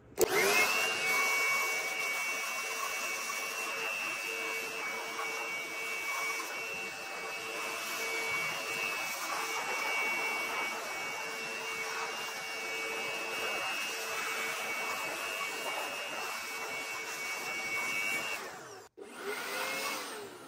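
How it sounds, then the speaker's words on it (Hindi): A Wadfow 400W electric blower runs steadily with a loud, high-pitched whine and airy rush while cleaning out an appliance, cutting off abruptly near the end before briefly restarting. "अभी हम इसको वॉडफो कंपनी के ब्लोअर की मदद से साफ़ करने की कोशिश करते हैं।"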